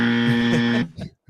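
A loud, steady electronic buzzer drones for almost a second and then cuts off, followed by a short faint trailing sound, on a fantasy football rankings show.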